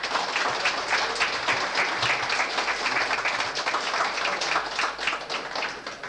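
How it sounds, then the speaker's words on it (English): Audience applause in a pub during a quiz final, dense steady clapping from a crowd, full and sustained throughout without talk. "he also deserves a round of applause."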